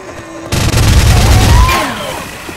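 A single loud shotgun blast in the zombie shooter Left 4 Dead 2, an abrupt boom that rumbles for about a second before trailing off into ringing echo, with no talk.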